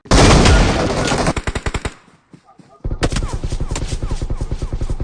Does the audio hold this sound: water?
no